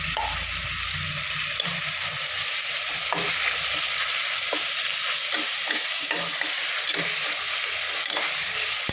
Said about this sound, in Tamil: இஞ்சி பூண்டு பேஸ்ட் வச்சுருக்கேன் அது ஒரு ஒன்றரை ஸ்பூனு அது போட்டுக்கலாம்